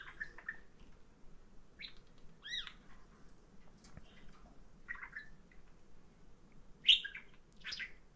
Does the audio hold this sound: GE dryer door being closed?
no